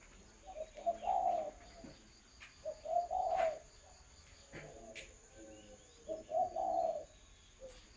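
A spotted dove coos in three separate phrases spaced a couple of seconds apart, each a soft, rounded series of notes. Insects trill faintly and continuously in the background.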